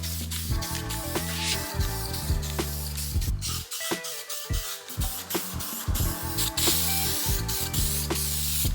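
Spray paint can hisses in a run of short bursts onto sanded sway bar brackets for a JZX rebuild, close and loud, with brief gaps and faint rattles between passes.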